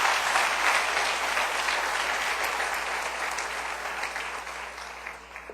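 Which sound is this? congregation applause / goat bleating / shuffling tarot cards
congregation applause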